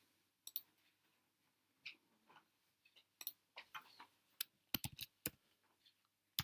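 Keys on a computer keyboard tapped in short irregular bursts while text is entered in a game-making program, quiet clicks with pauses between them.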